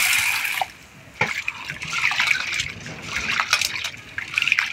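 Chana dal lentils being rinsed and swished in water, with a steady splashing and trickling that pauses briefly, then continues close by at moderate loudness.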